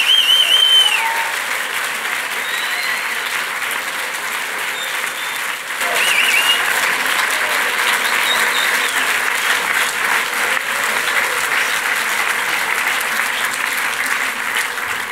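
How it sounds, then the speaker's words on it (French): A large festival audience applauds loudly and steadily for a federal councillor coming on stage, sustained clapping with a brief dip midway before swelling again. "j'espère qu'on va applaudir très très fort la présence ce soir de la conseillère fédérale Simonetta Sommaruga"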